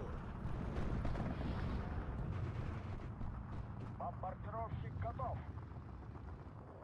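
A Panzer IV tank is destroyed in the WWII strategy game Steel Division 2 amid dense, rumbling battle noise with distant artillery thumps and gunfire, while someone talks over the din.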